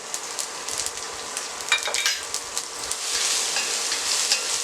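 Crushed garlic sizzles and crackles in hot oil with popped mustard seeds and cumin, a steady close frying hiss dotted with sharp pops and spoon stirring.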